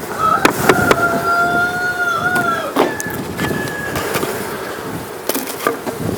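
Honey bees hum around hives at an apiary during a spring inspection, with a steady close buzz, wavering tones and sharp knocks and clicks from the handling.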